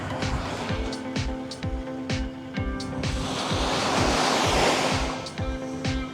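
Waves wash onto a busy beach lined with sunbeds at Nha Trang, Vietnam, with a broad rolling surge that swells and fades beneath a steady, rhythmic ticking close by.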